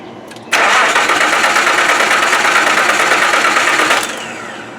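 1995 Nissan engine cranking on a first start attempt: a loud, continuous whirring crank close by for about three and a half seconds, then cutting off into a faint fading tail.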